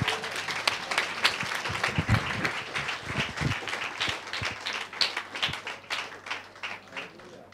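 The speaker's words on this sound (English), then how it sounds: "Clap your hands and tell him thank you." Church congregation clapping hands in thanks during a Sunday service, a lively mix of many claps with some loud close ones standing out, continuing for several seconds and tapering toward the end.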